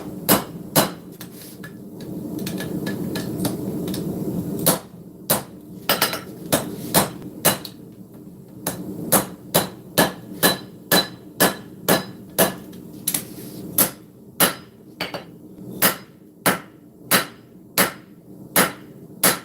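A hammer strikes hot steel on an anvil while forging a cleaver: a roaring forge first, then a long run of sharp, loud, evenly spaced ringing blows, close and with no talking.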